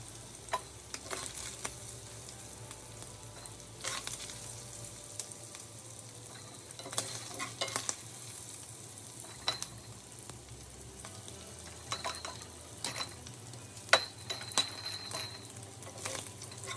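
Ground beef cooks in a pan, with a soft, steady sizzle under scattered clicks and knocks of utensils, heard at a low level with no speech.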